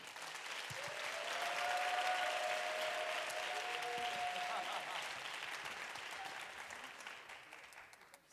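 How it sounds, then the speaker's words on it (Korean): Applause from a church university group audience at a talk show, welcoming two guests to the stage; clapping swells quickly, holds steady, then fades out gradually. "함께 이야기를 나눌 신하경 이매미 자매님을 박수로 모시겠습니다."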